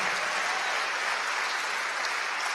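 A church congregation applauds in continuous, dense clapping that holds steady and fairly loud throughout, with no voices standing out.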